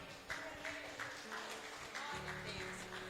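A church congregation claps along in steady rhythmic beats during worship, the hand claps fairly faint beneath sustained music tones.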